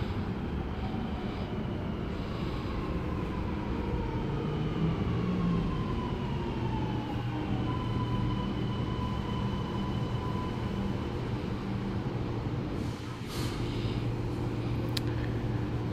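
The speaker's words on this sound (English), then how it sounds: "The train to Chatswood is going to enter platform number 1." A metro train rumbles into a platform at Rouse Hill station at night, steady low droning tones and rising-falling whines, loud and close, with a brief dip near the end.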